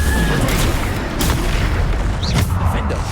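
The Bombarda explosion spell in the Hogwarts Legacy video game, a dense, loud, rumbling blast with overlapping booms amid continuous combat noise, mixed with a voice.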